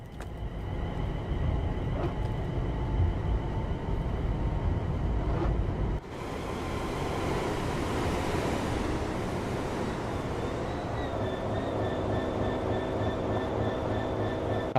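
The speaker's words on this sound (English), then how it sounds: "Another Pendolino. Another 350." In Train Sim World 5, a Pendolino train passes near Milton Keynes Central with a heavy rumbling roll. The sound shifts sharply partway through, then carries on with steady wheel noise and faint tonal hums, and no talking is heard.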